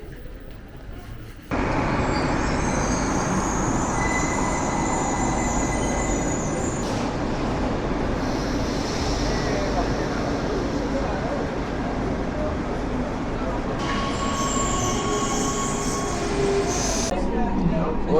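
A Rome metro train underway, loud rumbling rolling noise from inside the car with squealing wheels and rattling, starting after a brief quieter moment and continuing steadily with high screeches near the end.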